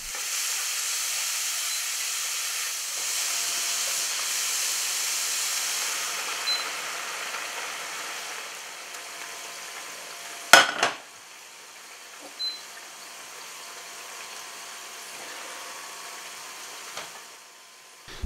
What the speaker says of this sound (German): Zum Ablöschen nehmen wir einen Rotwein, den wir auch trinken würden.